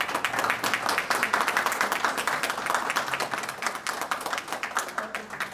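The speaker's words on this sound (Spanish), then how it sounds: "para quien pido un aplauso" An audience at a book presentation claps for a man standing in the room, the applause a brisk, slightly uneven patter of many hands, steady and moderately loud, then thinning toward the end.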